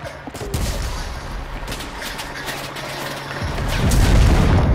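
Sustained gunfire in the shooter game Enlisted, a rapid volley of overlapping shots that swells louder near the end, with heavy low booms underneath.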